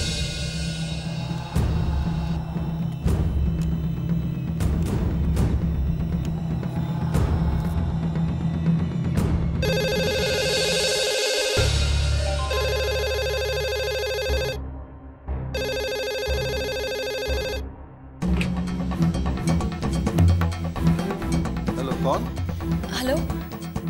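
A telephone rings at night in a Hindi drama scene, with repeated electronic ringtone tones in the second half, heard over music and under people talking.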